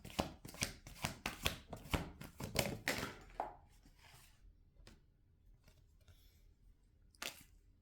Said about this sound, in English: shuffle some more cards.